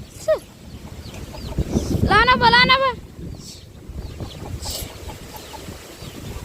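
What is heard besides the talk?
chickens clucking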